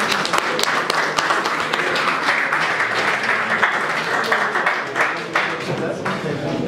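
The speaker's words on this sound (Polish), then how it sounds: "Wielkie brawa." An audience at an armwrestling tournament final claps loudly for the winner, a steady burst of applause with people talking over it throughout.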